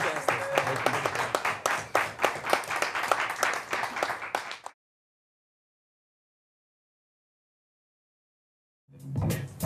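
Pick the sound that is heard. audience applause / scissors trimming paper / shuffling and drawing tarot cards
audience applause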